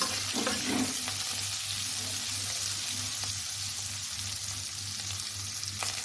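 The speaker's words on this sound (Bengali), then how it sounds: "আমি আলুগুলোকে লাল লাল করে ভেজে নেব" Potato pieces fry in oil with turmeric and salt, a continuous close sizzle with occasional stirring scrapes over a low steady hum, no talking.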